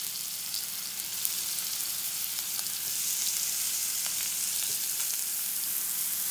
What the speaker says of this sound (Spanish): Ponemos aceite para que se dore la milanesa al gusto